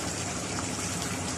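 Coconut milk pours in a steady gushing stream into a pan of chicken Bicol Express, a continuous close liquid rush with no voices.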